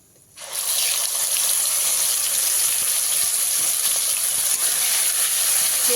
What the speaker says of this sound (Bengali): খুব ভালো করে ভেজে নেব ফ্লেমটাকে মিডিয়ামে রেখে